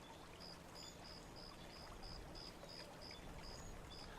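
Gently trickling water in the video game Obduction, a soft steady stream with faint repeating high chirps over it, quiet and continuous with no talk.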